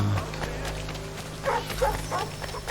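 Rabid dogs in a video game, a few short yips and barks at moderate distance over a steady low game hum.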